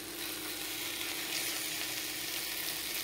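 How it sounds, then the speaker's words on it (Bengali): Steady close sizzle of fish pieces frying in a pan of cooked-down spice masala, a continuous even crackle running through without pause. "এখন ভেজে রাখা মাছগুলো দিয়ে দেব।"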